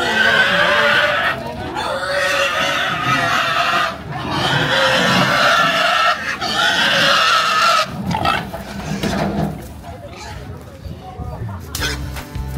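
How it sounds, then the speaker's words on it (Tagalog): Pigs squealing and grunting loudly while being chased on a farm in Batangas, with chickens clucking nearby and people shouting and talking over the commotion throughout. "Basta ano, habol ka yan mga baboy."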